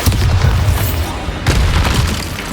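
A Bombarda explosion spell going off in the video game Hogwarts Legacy, with loud, heavy booming blasts and rumbling bursts. A second boom hits about halfway through, close and dense, with no clear talking.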